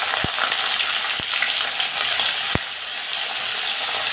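Eggplant and potato hit hot oil tempered with nigella seeds, filling the space with a loud, steady sizzle and fry. A few sharp knocks of a utensil against the pan cut through it, and no one speaks.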